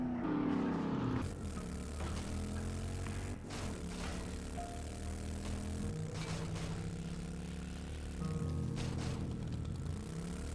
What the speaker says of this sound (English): Okay, alright, not bad with the motorcycle.